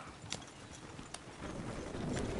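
In a PS4 video game, horse hooves clip-clop in a quick irregular patter that grows heavier toward the end, fairly faint under a broad game noise bed.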